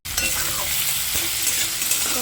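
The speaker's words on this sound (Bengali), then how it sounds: "টমেটোটা দিয়ে 2 থেকে 1 মিনিটের মতো চলো ভাজা ভাজা করে নিচ্ছি।" A medium tomato frying with onions is stirred in a pan for a fish curry, a short burst of loud, close sizzling with scraping spoon strokes.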